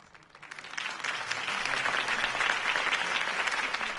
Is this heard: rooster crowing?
no